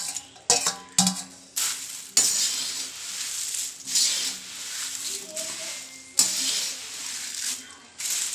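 Puffed rice being mixed with previously fried ingredients in a large pan, rustling and scraping with clinks of a metal spoon against the pan, uneven bursts close up, with a voice talking over parts of it.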